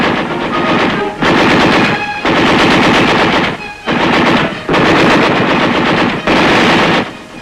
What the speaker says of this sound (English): the VC pour a withering fire on U.S. armor vehicles and personnel